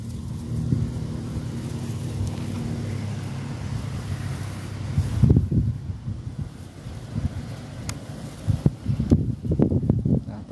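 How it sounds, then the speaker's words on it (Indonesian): Strong wind buffets the microphone of an SJRC F11S 4K PRO drone flying over the Bocimi toll road area in Sukabumi, a steady low rumble that swells into louder gusts toward the end, with no speech. "Ini anginnya lumayan kencang ya."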